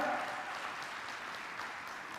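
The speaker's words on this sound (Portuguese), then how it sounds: "Dá um aplauso ao Deus e Pai que te ama em nome de Jesus." Congregation applause in a church service, a soft, diffuse wash of clapping that stays even and fairly faint across the short stretch.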